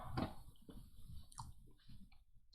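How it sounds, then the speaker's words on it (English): Close, quiet crunching and chewing of a crispy halibut sandwich: several irregular crisp bites and wet mastication sounds over a couple of seconds, with no talking. "you hear that crunch?"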